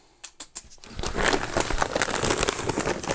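A large shopping bag rustles and crinkles as it is handled. A few soft taps come first, then dense, continuous close-up crinkling and crackling.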